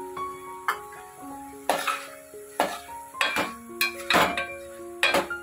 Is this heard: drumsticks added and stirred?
yes